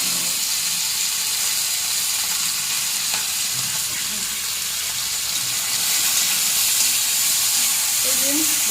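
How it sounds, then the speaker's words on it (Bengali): Okra dropped into hot oil with lightly fried tempering spices, giving a steady close sizzle and frying crackle throughout, with stirring noises and no talk. "এই যে ফোড়নগুলো একটু ভাজা ভাজা হয়ে গেছে, আমি এই ঢেঁড়সটা এর মধ্যে দিয়ে দিলাম।"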